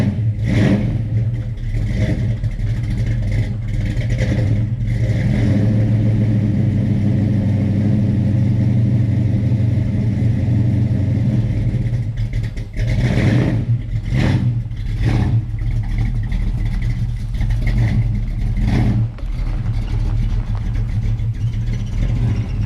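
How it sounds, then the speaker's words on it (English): A 1972 Dodge Dart Swinger muscle car engine rumbles steadily at low pitch for the whole stretch, with a few brief revs surging louder and fading back to a lumpy idle. "There's nothing better than the sound of an old Mopar muscle."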